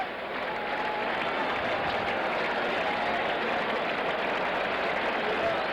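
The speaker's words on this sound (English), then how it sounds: "the crowd getting excited again as Dwight Gooden struck out the side in the 4th." A baseball stadium crowd at a Giants at Mets game roars and applauds in a dense, unbroken wash of noise at a steady loudness for several seconds.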